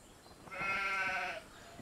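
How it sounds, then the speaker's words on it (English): A sheep on a homestead gives one wavering, nasal bleat lasting under a second. It is moderately close and stands out over quiet background noise. "Just sheep and cows."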